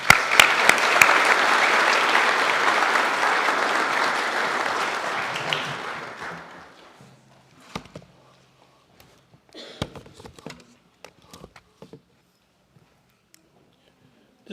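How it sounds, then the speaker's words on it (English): An audience at a high school Veterans Day program applauds a guest speaker, a command sergeant major, with loud, sustained clapping. It dies away after about six seconds into scattered taps, footsteps and faint shuffling. "please give a round of applause for our guest speaker"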